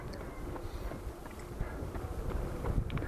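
Wind buffeting the microphone on a riverside embankment along the Lez during the Montpellier marathon, a steady low rumble with gusty swells and faint scattered knocks, no talk.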